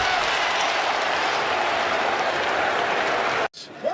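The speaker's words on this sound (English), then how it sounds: "Crowd showing Chris Finch some love." A basketball arena crowd in Minnesota applauds and cheers for coach Chris Finch, a dense, loud roar of clapping sustained for several seconds before cutting off abruptly near the end.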